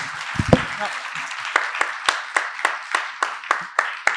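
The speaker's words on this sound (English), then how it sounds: "a warm round of applause for Professor Gavin" Audience applause for a guest professor at a talk, opening with a dense burst of clapping that thins into a sparse run of separate hand claps with a low voice murmur at the start.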